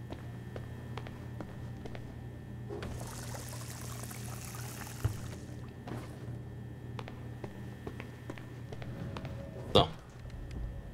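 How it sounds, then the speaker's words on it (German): Water being fetched in the Crime Scene Cleaner video game, a soft pouring rush that swells for a few seconds under quiet game ambience, followed by light footsteps and a sharper clunk near the end. "Ja, lass uns erstmal Wasser holen."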